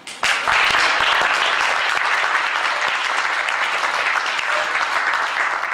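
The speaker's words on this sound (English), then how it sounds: "let's give them an applause, please." An audience at a product creation workshop breaks into applause, a sudden burst of dense clapping that holds steady and close for several seconds.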